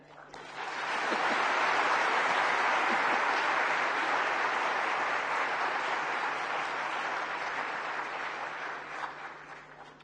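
A large audience at the Pradhan Mantri Rashtriya Bal Puraskar 2025 children's award ceremony bursts into loud, dense applause that swells within a second and holds steady for about nine seconds before easing slightly.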